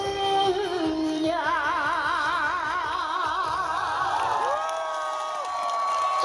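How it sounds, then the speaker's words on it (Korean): An audience at an outdoor reed festival in Gangjin cheers, whoops and claps after a trot song performance, a dense crowd roar with some children's shouts, sustained and loud, with tonal music or singing lingering underneath. "자, 큰 박수 한번 보내주시기 바라겠습니다"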